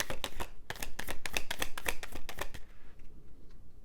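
A deck of tarot cards being shuffled at close range, a quick run of crisp riffling slaps for about two and a half seconds before settling into quiet.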